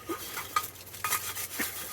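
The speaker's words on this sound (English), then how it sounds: "You're always scraping that pan." A metal spatula scrapes and clinks against a smoky frying pan being cleaned on a farm, with short irregular scrapes at close range.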